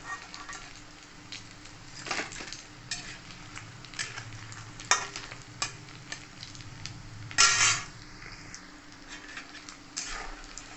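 Chicken cutlets fry in a pan with a soft, steady sizzle. Spatula scrapes and clinks break in from time to time, and one sharper clatter comes near the end. Nobody speaks.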